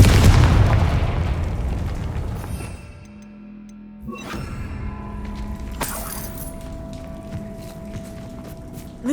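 In Hogwarts Legacy, a Confringo fire spell detonates in a loud, booming blast that rolls off and fades over a few seconds. Softer in-game rumbles and metallic clatters follow.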